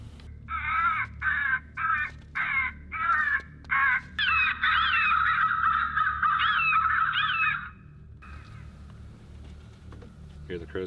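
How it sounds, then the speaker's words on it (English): Crows cawing in the Mark Twain National Forest, a run of loud repeated caws in short bursts followed by a longer stretch of overlapping calls, then quieter woodland. "Hear the crows going on?"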